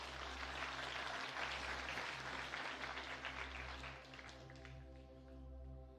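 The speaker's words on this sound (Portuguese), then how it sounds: "Aplausos para os nossos pescadores." A crowd at a church conference applauds, a dense wash of clapping that holds steady and then gradually thins out, with a low hum underneath.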